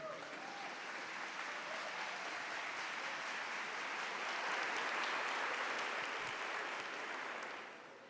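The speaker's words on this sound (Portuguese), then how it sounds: "vamos aplaudir a palavra do Senhor" A church congregation breaks into dense, sustained applause, many hands clapping at once in a steady roar that swells slightly before tapering off at the end.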